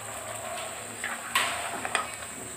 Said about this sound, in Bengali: মাংসগুলোকে এখন রান্না করতে বসাই দেওয়া হলো। এখন নাড়া দিয়ে নেওয়া হবে।